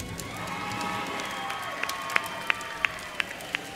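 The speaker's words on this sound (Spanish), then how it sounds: "dele fuerte el aplauso a Cristo" An audience applauds and cheers at the Premios Influenzando 2019 awards show, a sustained crowd wash with a few sharp, evenly spaced claps or beats standing out near the end.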